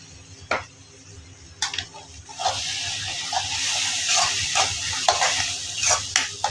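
Masala for a sandwich filling roasting in a pan, a steady sizzle with repeated scraping and stirring strokes and a few sharp taps of the utensil against the pan.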